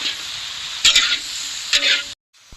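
Vegetables for khichdi sizzle in a hot pan while a spoon stirs them twice with brief scraping strokes. The close, steady frying hiss cuts off abruptly near the end.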